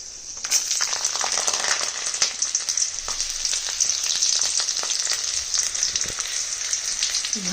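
Whole garam masala spices frying in hot oil, giving a loud, steady, bright sizzle with a dense crackle throughout and no pauses.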